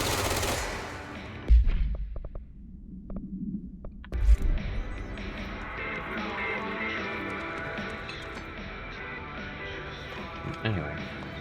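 Automatic machine-gun fire in the action video game Control, with sharp bursts of shots and a loud crack near the start, then a dense layered soundtrack and effects running underneath.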